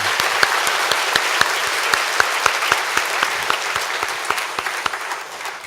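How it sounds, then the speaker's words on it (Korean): A church congregation at a 45th-anniversary revival meeting applauds steadily, a dense wash of many hands clapping with sharper individual claps standing out throughout, with no talking over it. "사랑의 박수로 한번."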